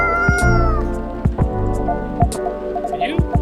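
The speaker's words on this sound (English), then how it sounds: "Miss Lou, I don't think this is a coffee drinking sort of cat." A cat in the video game Coffee Talk meows repeatedly, drawn-out, tonal calls near and loud, over steady game music and light rain ambience.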